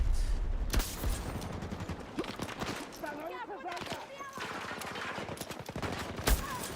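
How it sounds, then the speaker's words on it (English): Gunfire in a Battlefield match: scattered sharp reports and short bursts at moderate level, mixed with other battle noise, a few louder cracks standing out. "Firing at the ring."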